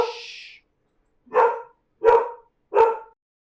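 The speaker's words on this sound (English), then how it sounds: "Go bark over there." A female dog barks at close range indoors: one drawn-out, whiny bark, a short pause, then three sharp, loud barks at a steady rhythm, with no talking over them.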